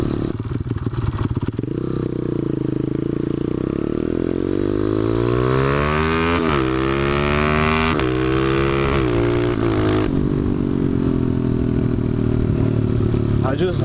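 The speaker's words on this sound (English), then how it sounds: "it's like a loud backfire when I shift, and it just sounds so cool" A motorcycle is shifted without the clutch on a back road, likely on the 3 to 4 shift, its engine revving in rising sweeps broken by sharp pops, loud and close throughout.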